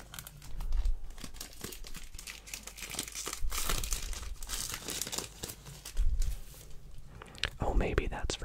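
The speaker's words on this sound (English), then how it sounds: "Get some good crinkling sounds as well." Packaging for a new camera crinkles and rustles close up during an unboxing, with bursts of plastic crackle and tearing-like scrapes spread across the clip, while a soft voice speaks quietly underneath.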